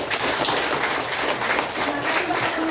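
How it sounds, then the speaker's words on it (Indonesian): Dense applause from a crowd at an elementary school visit, steady and sustained throughout, with faint voices mixed in underneath. "terima kasih, tepuk tangan untuk kita semua"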